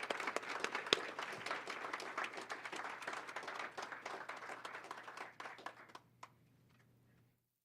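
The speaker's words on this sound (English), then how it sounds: "Can we get another round of applause for all of our retirees?" Audience applause for retirees at a Board of Education regular meeting, a dense, steady wash of many hands clapping that fades out over the last couple of seconds, heard alone without talk.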